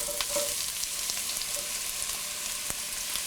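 Sliced onions sauté in hot coconut oil in a skillet, giving a steady close sizzle and crackle with a few light stirring clicks throughout.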